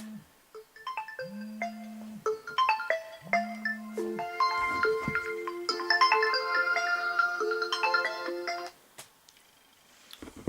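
A phone ringtone plays: two low buzzing tones, then a bright electronic melody that runs for several seconds before stopping.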